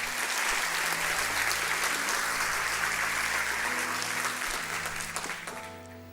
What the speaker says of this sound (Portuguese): Dê o melhor aplauso que você pode dar ao Senhor.